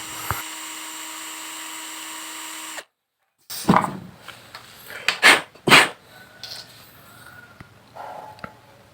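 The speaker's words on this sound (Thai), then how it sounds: "เอาสำลีธรรมดานี่แหละเอาไปปั่นกับสว่านนะครับ" High-pitched whine of a drill spinning cotton wool steadily for a few seconds, then cutting off abruptly, followed by scattered clunks, rustles and handling noises.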